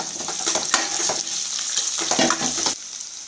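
Chopped onions sizzle and crackle in a hot pan, with scraping stirring strokes breaking through the steady frying hiss.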